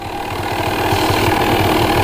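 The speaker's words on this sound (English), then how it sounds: "Seems to be running pretty good, as you can hear. Idling a little bit high." A Honda ATC 250R three-wheeler engine idles steadily up close, slightly high, with a fast, even chugging rhythm and no voices.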